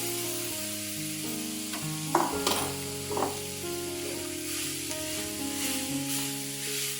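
Grated amla (Indian gooseberry) frying in a pan over medium flame, a steady broadband sizzle with occasional stirring scrapes and clinks, close and moderately loud, with faint background music tones and no talking.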